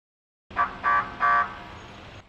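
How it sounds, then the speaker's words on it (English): Car horns honk three times in quick succession over a steady rumble of idling engines and road noise. "Bumper to bumper traffic. Gridlock at an intersection."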